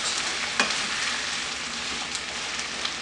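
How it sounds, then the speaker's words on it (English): Onions frying in a pan for a lamb curry, a steady close sizzle with a few soft stirring clicks. "we fry these onions till they turn translucent and become a bit soft."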